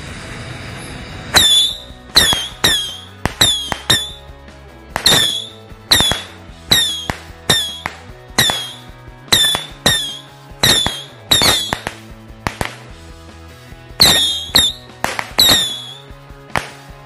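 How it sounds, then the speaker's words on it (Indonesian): Patriot firecrackers going off one after another, about fifteen sharp cracks in an uneven rhythm, each a loud snapping burst with a brief fizzing tail and quiet gaps between. "itu dia hasilnya dari mercon Patriot"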